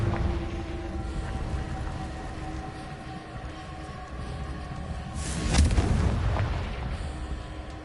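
A Confringo fire spell blast in the Hogwarts Legacy video game erupts as one loud, sharp burst about midway through, set over a steady low rumbling game soundscape.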